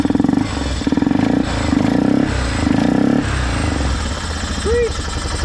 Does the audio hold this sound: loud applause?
no